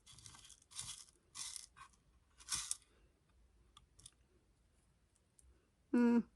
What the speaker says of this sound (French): Je pense que je vais mettre un petit peu de perles.